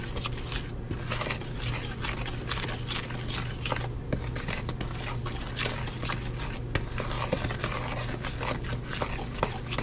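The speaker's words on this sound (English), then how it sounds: "The next thing I'm gonna do is mix all this up thoroughly." Spoon stirring a thick onion fritter batter in a bowl, a steady, busy scraping and clacking that goes on without pause, close and fairly loud, with a low hum underneath.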